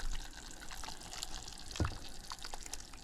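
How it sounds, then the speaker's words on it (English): Jerk sauce is poured over ribs in a slow cooker, giving a faint, soft liquid pour with one brief, slightly louder splat amid low background noise. "Poured it onto the ribs"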